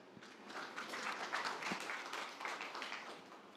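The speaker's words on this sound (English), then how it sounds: "So a round of applause for our startup." Faint audience clapping at a startup pitch event welcomes a company onto the stage. The applause is brisk and continuous throughout, and sounds distant.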